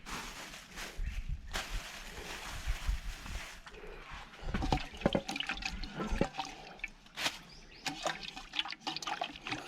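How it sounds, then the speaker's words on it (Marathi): Splashing and sloshing water with scattered sharp knocks and clatters as fish are rinsed and handled in a basin outdoors, uneven and close. "मच्छी आपण मच्छी धुवून घेऊया"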